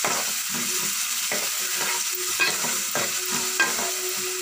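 Eggplant and raw mango curry cooks on a stove, sizzling steadily while a spoon stirs the pan in repeated scraping strokes, close and moderately loud with no talking.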